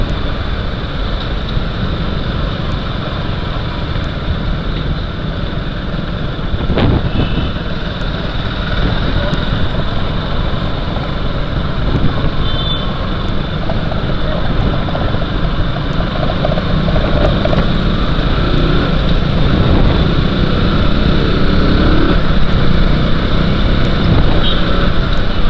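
A KTM RC 200 motorcycle engine drones continuously at speed on a long ride, a steady loud hum mixed with broad wind rush throughout.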